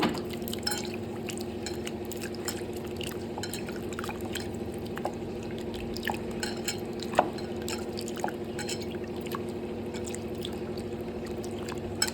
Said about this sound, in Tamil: கொஞ்சமாக மாவு உருண்டை போட்டு கொஞ்சமாக தண்ணி ஊற்றி நல்லா கரைச்சிக்கலாங்க